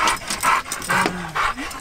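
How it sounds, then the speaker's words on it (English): A dog makes a series of short, close vocal sounds on a fishing outing, about four evenly spaced yelps or whimpers with brief pantings between them. "We have a weird dog."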